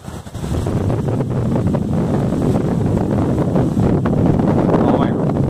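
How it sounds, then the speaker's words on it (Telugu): Strong wind buffets the microphone on a mountain trek near Visakhapatnam, a loud, steady roar and rumble that holds for the whole stretch with little letup. "చాలా గాలి వస్తుంది."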